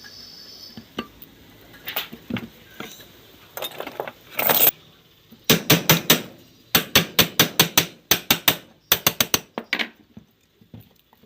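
Nail being hammered into a hole on a motor part during motor rewinding work: repeated sharp metallic hammer strikes in several rapid clusters, close and loud, with softer clinks between, and no talk.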